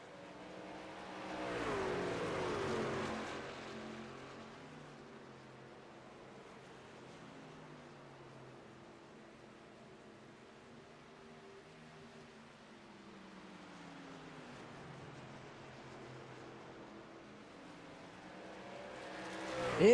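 Race cars lapping Homestead Miami Speedway in a racing video game under green-flag conditions, engines droning and swelling as a pack passes, then settling into a steady distant hum before rising again at the end.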